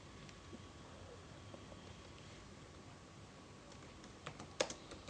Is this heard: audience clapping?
no